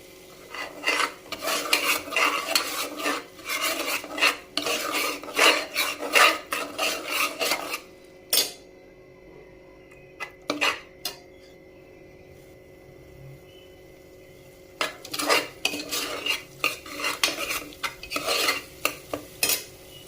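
Ginger garlic paste sautéing for mutton curry, with a spoon scraping and stirring briskly against the pan in bursts, a pause with only a few knocks and a faint sizzle, then more stirring.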